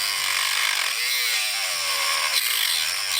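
A power tool grinds loudly and steadily as it trims the firewall of a VW Scirocco to make room for a clutch cable during a VR6 engine swap, with a harsh broadband whine that runs for the whole stretch with no talk.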